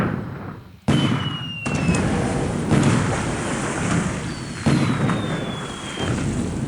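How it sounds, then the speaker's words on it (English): Artillery battery fire from the naval combat of War in the Pacific: Admiral's Edition, heavy booming blasts with rumbling tails, the first striking near 0.9 seconds and another near 4.7 seconds, layered over continuous loud battle noise. "More unloading, more battery fire."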